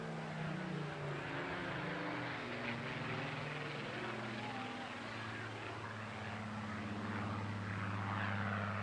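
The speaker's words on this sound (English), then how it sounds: "A wonderful example of a Mark 19 photo reconnaissance Spitfire." Supermarine Spitfire Mark 19 photo reconnaissance aircraft flying past at an air festival, its piston engine a loud sustained drone with shifting pitch as it passes, under crowd ambience.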